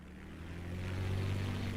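A propeller airplane engine in Microsoft Flight Simulator drones steadily with a low tonal hum, moderately faint and swelling slightly, with no voices over it.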